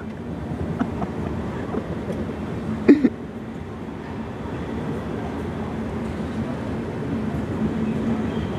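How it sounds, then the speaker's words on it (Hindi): A very long train rolls past a closed level crossing on a road journey, a steady, dense rumble and rattle of wagons that carries on unbroken, with a brief sharper clank midway and no talking. "बहुत लंबा ट्रेन है, ख़त्म ही नहीं हो रहा है।"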